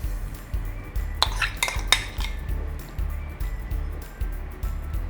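A spoon scrapes and clinks against a baking dish while spinach and corn lasagna filling is spread, with several close, irregular knocks and scrapes over a steady low background hum.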